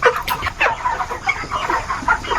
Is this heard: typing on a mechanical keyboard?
no